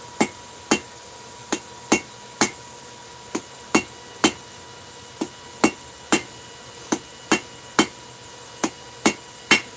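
A hammer forges a small taper on an anvil, sharp ringing metallic strikes landing in an uneven rhythm, roughly two per second with brief gaps, each clang bright and close over a quiet background.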